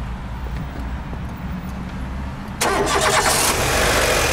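A Lada Largus Cross idles at a low steady rumble, then the engine catches with a sharp rise into a louder, brighter running sound that holds to the end, heard close by.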